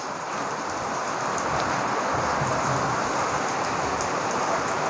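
Steady rain falls on a rainy village morning, a dense, loud and unbroken hiss of drops that stays even throughout.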